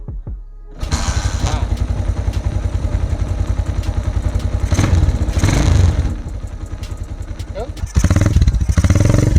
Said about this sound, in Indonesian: kita coba untuk mendengarkan suara knalpotnya karena ini dibilang knalpot keh tapi udah dirombak, dibedel